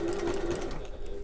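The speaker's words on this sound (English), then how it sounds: "we'll sew as far as that seam" A sewing machine stitches a backpack seam in one close, continuous run, its motor whirring steadily before easing slightly toward the end.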